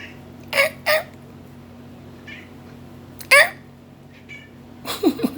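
A cat makes short, high squeaky chirps like a dolphin's, in several separate bursts with quiet gaps between them, close by and fairly clear.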